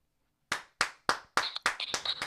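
A small group claps on a morning show, starting after a short silence with a few distinct single claps that quickly build into quicker, overlapping applause, fairly close.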